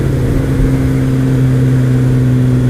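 Steady drone of a Kawasaki ZX-12R's 1.2-litre inline-four motorcycle engine while riding near Brisbane, a constant low hum with strong tonal bands heard up close under wind rush, holding an even pitch throughout with no talking.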